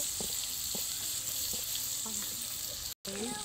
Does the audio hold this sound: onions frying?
yes